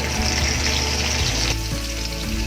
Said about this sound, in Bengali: পেঁয়াজটা আমি 2 মিনিট মতো ফ্রাই করে নিয়েছি।